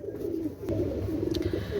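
Teddy pigeons cooing in a low, steady, throaty murmur, close and continuous, with no voices over them.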